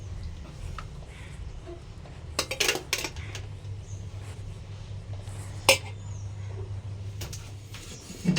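Steel dishes and pots clink and clatter in scattered bursts as a child plays with them, over a steady low hum, close by, with no talking.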